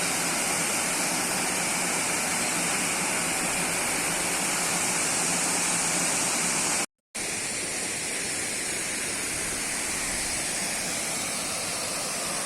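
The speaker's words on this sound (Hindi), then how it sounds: "एकदम ऊपर देखिए छोटे छोटे झरने गिरते हुए दिख रहे हैं" Small waterfalls in a forest, a steady, dense rush of falling water, loud and unbroken, with a momentary dropout partway through.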